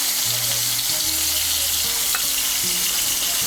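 A medium-sized raw banana, sprinkled with a little salt, fries in hot oil with a loud, dense, continuous sizzle that stays close and even throughout, without any talking.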